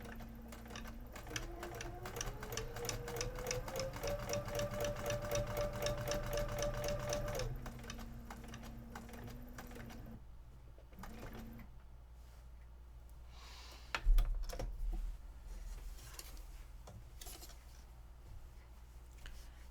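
A sewing machine stitches a quilt during machine quilting, running steadily for several seconds with a fast, rapid mechanical rhythm, then stops and gives a few short bursts and clunks against a quiet room.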